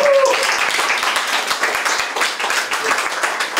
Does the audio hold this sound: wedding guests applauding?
yes